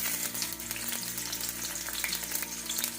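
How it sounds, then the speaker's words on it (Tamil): Chopped garlic frying in oil in a kadai, a constant close sizzle with light crackling and a low steady hum behind it, no talk. "இப்போ இதை தனியா ஒரு பவுல்ல எடுத்து வச்சு கடாயில கொஞ்சம் எண்ணெய் ஊற்றிக்கலாம். காஞ்சதும் சின்ன சின்னதாக கட் பண்ண பூண்டு"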